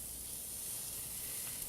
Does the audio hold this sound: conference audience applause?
no